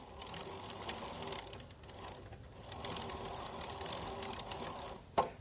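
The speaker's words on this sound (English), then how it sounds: "then you use a wrench tool to tighten them up" A wrench tightens the pedals on a Windhorse D3 electric bike, producing a steady run of fine clicking and rattling ratchet-like texture, close and moderately quiet, ending with a sharp knock.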